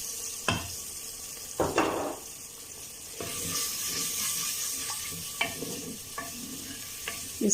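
Finely chopped tomato sizzles in a pan with ginger-garlic while dhaba-style daal chana masala is being made, soft frying hiss broken by several sharp spoon scrapes and stirring clatters, fairly quiet with no voices.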